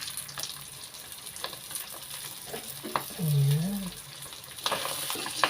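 Chopped onion added to hot oil in a pan, giving a steady frying sizzle with light stirring scrapes and a brief low clatter partway through; a voice speaks briefly.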